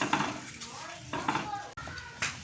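A ladle scrapes and knocks around a pot of mango juice while it is stirred, with soft metallic clinks and scraping under a voice talking throughout.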